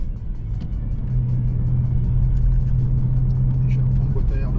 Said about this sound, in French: pour une voiture d'origine, je trouve que ça gronde vraiment.